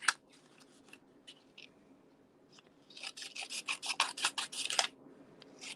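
Scissors snipping adhesive sheet on vellum for stained glass, a quiet close run of quick rasping cuts that builds into a dense burst of strokes before stopping.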